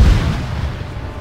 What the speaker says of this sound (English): don't fire mortars at that compound